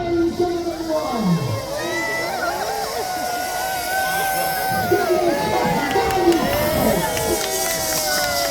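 A crowd at a naval battle show in Peasholm Park cheers and whoops in a sustained, busy roar, with someone speaking over a loudspeaker above it.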